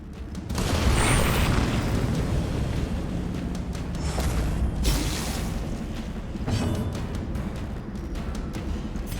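A Dragon Fire skill attack from the Darkest Dungeon video game: a loud, sustained fiery roar with booming bursts that swells early and then rumbles on steadily, with no talk over it.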